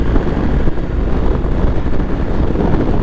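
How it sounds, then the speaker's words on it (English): Strong wind buffeting a microphone outdoors on a windy day, a loud, continuous low rumble that gusts unevenly for a few seconds with no voices. "it's a little bit windy today."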